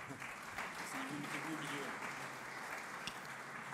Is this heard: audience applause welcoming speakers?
yes